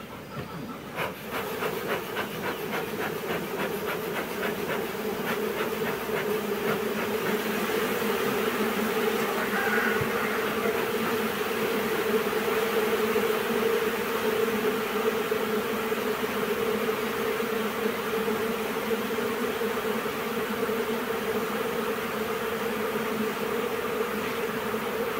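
Thirty-one honeybee colonies near a forest edge hum during a hive inspection, a dense, steady buzz that stays loud and close for the whole stretch with no voices over it.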